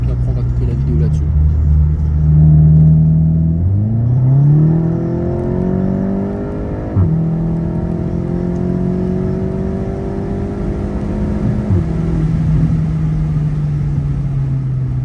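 A modified TCR car engine is blipped to high rpm several times, loud and close, the pitch sweeping up and holding before dropping back, with a voice briefly talking over it.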